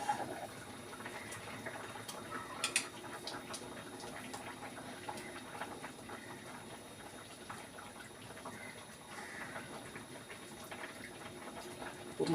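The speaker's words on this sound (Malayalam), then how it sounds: "തിളച്ച് വന്നിട്ടുണ്ട്. എണ്ണമയൊക്കെ തെളിഞ്ഞ് വരണം." A pot of pearl spot (karimeen) fish curry bubbles steadily on the stove, a soft continuous simmering hiss with small pops, close and fairly quiet, with no talking.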